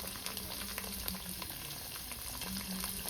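Ginger and chili frying in a pan while being stirred, giving a steady, quiet sizzle with faint scraping and no voices.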